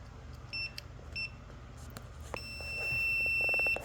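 Two short electronic beeps from a multimeter on continuity test of an alternator's pins, followed by a sustained steady tone, close and clear over a low background hum.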